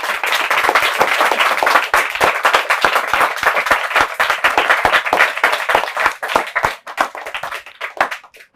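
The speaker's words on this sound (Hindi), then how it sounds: "जोरदार ताली हो जाए भाई" An audience claps loudly for a speaker at a motivational talk for NEET and JEE students in Prayagraj. The applause is dense at first, then thins into scattered individual claps that taper off near the end.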